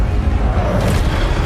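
In the video game Hogwarts Legacy, the Incendio fire spell is cast with a loud, dense roaring whoosh, a rumbling burst of fiery noise that fills the moment.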